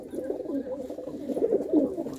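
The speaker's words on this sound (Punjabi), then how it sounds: "ਇਹ ਕਬੂਤਰੀ ਦੇਖੋ ਜੀ ਹਰੀਆਂ ਅੱਖਾਂ ਵਾਲੀ ਜਿਹੜੀ ਸੀ ਇਹ ਵੀ ਆ ਕੇ ਆਂਡਿਆਂ 'ਤੇ ਬੈਠ ਗਈ ਆ ਜੀ" Pigeons, including a green-eyed hen settled on her eggs, coo in low, rolling murmurs that rise and fall continuously nearby, with no talk.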